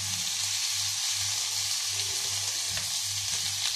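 Potatoes frying in hot oil for Peruvian salchipapas, a steady close sizzle and bubbling crackle that holds evenly throughout with no voices.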